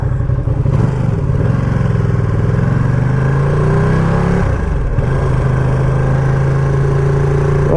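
A 2020 Ducati Panigale V2 motorcycle being ridden, its loud close engine climbing through revs, easing off around a shift, then holding a steady throaty drone with no talking.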